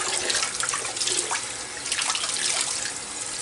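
Cold tap water runs steadily over raw venison being rinsed, a continuous close splashing and trickling stream with no talking.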